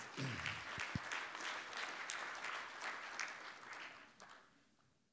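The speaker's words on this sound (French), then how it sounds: "on applaudit" A crowd applauds steadily for several seconds, the clapping fading out toward the end.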